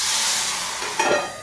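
Hot spice tempering sizzles and hisses loudly in a pan for rasam-style katachi amti, then a splash as liquid is poured in near the end and the sizzle fades, close up, no talking.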